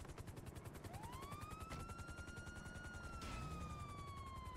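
A police helicopter in GTA Online thumps with fast, rapid rotor chops throughout, faint and steady, while a siren-like rising tone sweeps up and holds above it.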